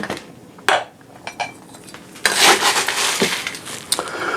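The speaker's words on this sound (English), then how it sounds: "Fill that on with ice as you throw ice across your bar." Ice cubes clatter into a tall Collins glass at a home bar in several separate bursts, followed by a louder tumbling rush of ice partway through. Sharp clinks ring out near and clear.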